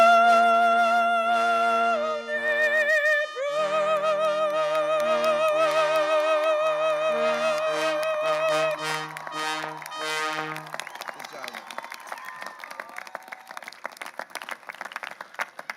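At a university commencement in a stadium, music plays for about ten seconds, then a large crowd breaks into a wide, crackling wash of applause that fills the rest of the clip.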